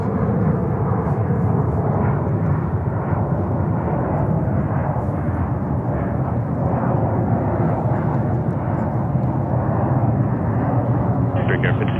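An aircraft takes off at JFK airport in New York, a loud, steady roar of jet engines that holds throughout, heard close and continuous.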